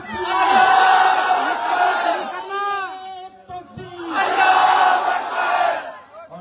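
A large crowd at an outdoor political rally in Nandura roars a slogan in unison, two long swelling bursts of massed shouting separated by a brief lull with a single voice calling out between them.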